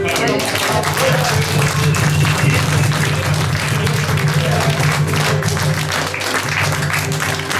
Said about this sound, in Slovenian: Dajmo en aplavz Jezusu.